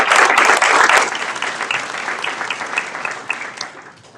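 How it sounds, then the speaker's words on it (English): An audience at a city State of the City address in El Centro breaks into loud applause that starts strong and gradually thins out over a few seconds, with scattered claps trailing off. "Round of applause for them."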